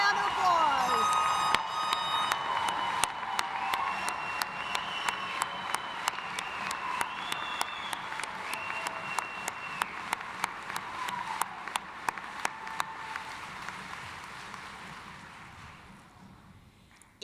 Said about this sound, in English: will everyone join me giving these grads a round of applause